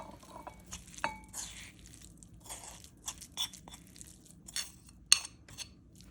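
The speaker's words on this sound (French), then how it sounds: "retire les poissons et écrase-les rapidement à la fourchette dans ton bol" A fork mashes canned sardines in a bowl, giving faint, irregular soft crunches and scrapes with an occasional sharper clink against the dish, heard alone in a quiet kitchen.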